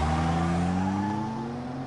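A car engine revs up hard and pulls away quickly, a loud close steady roar that eases slightly as it goes.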